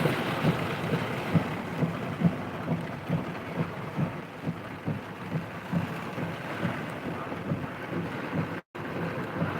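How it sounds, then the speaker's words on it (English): Heavy rain driven by a 15 to 20 mph wind in the Jonesville, Virginia area, a loud, steady roar with no break that holds evenly through the whole stretch, with no voices. "There's some super duper major heavy rain in this."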